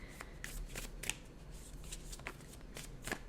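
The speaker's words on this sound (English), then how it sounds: "I'll give it a good shuffle" Tarot cards are riffled and shuffled close up in a continuous run of crisp, papery flutters and snaps, with no talking.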